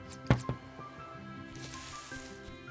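A water bucket is tipped out in the Stranded Sails farming game, giving a sharp splashing gush that fades into a soft, trailing liquid hiss over quiet background game music.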